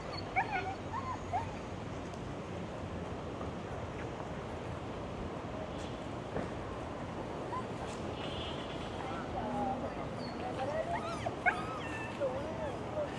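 Several dogs gathered on a city street whimper and yip faintly at a distance, mixed into outdoor ambience while a person talks nearby.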